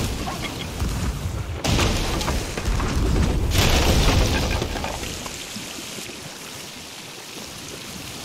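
Cannon fire from an enemy ship in the Sea of Thieves video game, two heavy booming blasts a couple of seconds apart over a rushing, rain-like wash of sea noise, with no speech.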